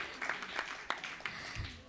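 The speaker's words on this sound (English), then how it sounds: "Clap for all of you." Light clapping from a seminar audience, a few soft, scattered hand claps at an irregular pace, quiet and somewhat distant in the room.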